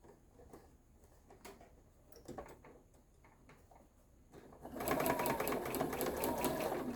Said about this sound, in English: I just take a few slow stitches to begin with, unless my foot gets a bit heavy there